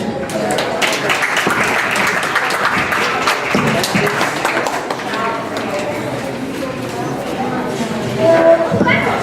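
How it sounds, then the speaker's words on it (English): An audience at a community event applauds with steady, sustained clapping, a dense patter that swells near the end while voices murmur underneath. "Give Diana another round of applause."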